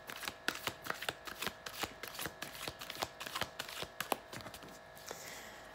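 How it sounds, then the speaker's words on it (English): Tarot cards are shuffled close up, a rapid run of crisp riffling taps and flicks at an uneven rhythm, soft but distinct against a quiet background. "So I've been shuffling the cards and focusing on really tapping into that Sagittarius energy."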